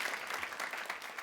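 Studio audience applause during a live youth webcast: quiet, brief clapping from a small crowd, heard at a distance and lasting only a moment.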